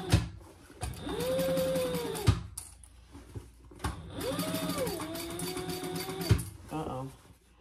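A sewing machine stitches in two sustained runs of fast mechanical whirring with a rising and falling motor pitch, separated by a brief pause and ending in clicks, with a voice talking over it.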